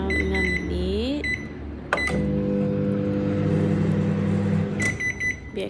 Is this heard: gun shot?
no